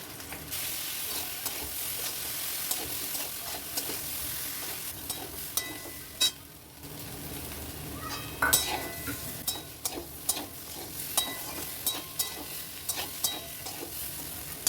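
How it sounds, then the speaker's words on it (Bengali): Quiet, steady sizzle of vegetables and fried bitter gourd being sautéed with salt for shukto, with a spoon repeatedly scraping and clinking against the pan throughout. "তারপর ভেজে রাখা করলাটা দিয়ে ভালোভাবে কষিয়ে নেব।"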